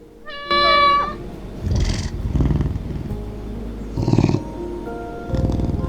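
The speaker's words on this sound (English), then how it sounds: "you can even pet them and make them purr" A cat meows once in the video game Calico, then soft rumbling purrs come in several rhythmic bursts, close and clear, over quiet background sound.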